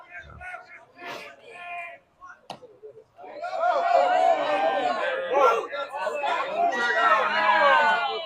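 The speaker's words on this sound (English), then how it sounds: "Crowd doesn't like it" Crowd at a minor-league baseball game in Asheville reacting to an umpire's call, a swelling murmur and babble of many voices rising from near silence and holding steady.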